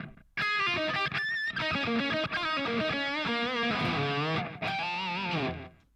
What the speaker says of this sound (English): But now you can hear distortion, right?